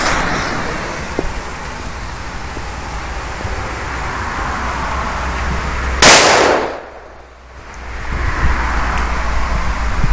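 Outdoors, a Di Blasio Elio Zeus firecracker of 0.5 grams with a plastic end plug detonates in a single loud, sharp bang, preceded and followed by steady windy background noise with a short lull after the blast.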